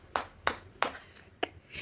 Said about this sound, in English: he clap for pilots